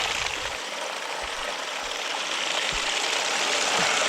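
Tap water runs steadily onto a spinning pottery wheel during throwing, a continuous close hiss of stream and trickle with faint low thumps from the wheel, no talking.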